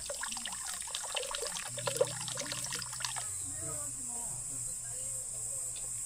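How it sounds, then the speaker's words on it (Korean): Water trickles steadily from a trough into a container in a hanok courtyard garden, close and fairly quiet, a soft continuous dribble with brief splashy bursts early on before settling into a smooth flow. "물소리 들으니까 너무 좋지요"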